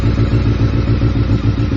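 A Honda CBR600 motorcycle with an electrical fault runs at a steady idle, its engine close and loud with an even, pulsing beat throughout.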